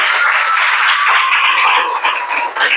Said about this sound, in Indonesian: kita tepuk tangan untuk hari ini ya.